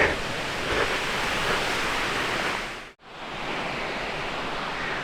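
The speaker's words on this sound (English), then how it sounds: "The mist coming off the waterfall is pretty insane" Mountain waterfall in Idaho rushing steadily beside an old mine site, a loud broadband roar that dips to near silence for an instant around the middle before resuming.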